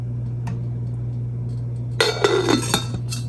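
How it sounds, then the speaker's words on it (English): A lid goes onto a pot of cooking oats with a short cluster of metallic clinks and rattles, over a constant low stove hum. "I'm now going to cover my oats and let it cook up for about 7 to 10 minutes."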